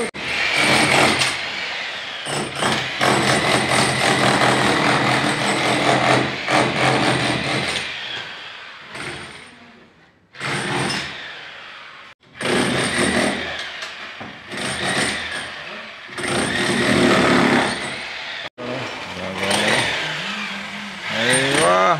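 Loud demolition at a hospital construction site where additional ICU rooms are being built, with dense broadband hammering and grinding in long sustained bursts broken by short pauses; a voice briefly comes through near the end.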